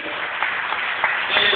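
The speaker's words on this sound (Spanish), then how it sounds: "¿Cuántos le dan un aplauso al Señor Jesucristo?" A church congregation applauds together in a steady, dense wash of clapping that fills the room evenly for a short stretch, with a few slightly louder bursts near the end.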